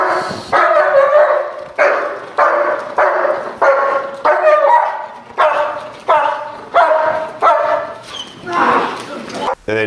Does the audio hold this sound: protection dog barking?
yes